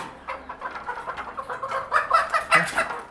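Fancy rooftop chickens clucking softly in a steady rhythmic series of short calls, growing slightly louder toward the end.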